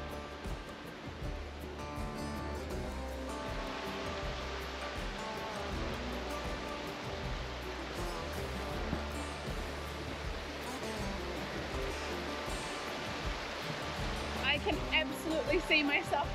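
Steady roar of rushing water, a dense continuous wash of noise that stays fairly even and grows slightly louder near the end.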